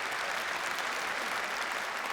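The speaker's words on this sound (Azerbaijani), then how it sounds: "bu 3 gənci ürəkdən bir alqışlayaq" An audience at a live comedy concert stage show claps for three young volunteers, a dense, even burst of applause from a crowded hall, fairly faint and steady with no speech.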